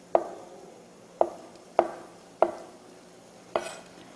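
A kitchen knife cuts food into thick 0.5 cm strips with five crisp, separate chops on a cutting board, about half a second to a second apart, close and clear with no talking.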